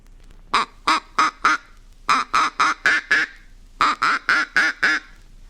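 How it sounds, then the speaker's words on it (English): A mallard duck call huffed into for a feed call gives three quick bursts of four or five sharp quacking notes each, close and fairly loud, with short pauses between groups and no voices. "Now listen to it as we bring our duck call up"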